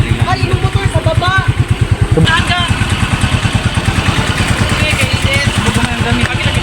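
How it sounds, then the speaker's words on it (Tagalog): A motorcycle engine chugs at idle with a steady, throbbing pulse, loud and close, while voices talk over it. "Ay, yung motor sa baba!"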